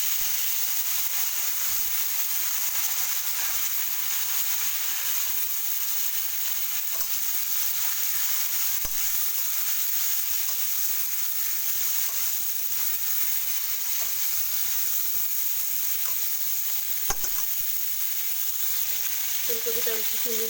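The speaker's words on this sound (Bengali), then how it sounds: "ফুলকপিগুলো একটু ভাজা করে নেব আমি" Cauliflower florets frying in oil in a pan while Bengali khichuri is being made, a steady close sizzle and hiss running throughout with occasional scrapes of stirring, no speech.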